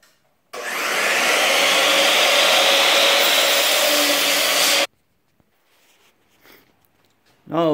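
Quarter-inch diamond plate steel being cut into table legs: a loud, steady power-saw roar runs for about four seconds, then stops, leaving near-quiet with faint scattered noises and a short voice at the end.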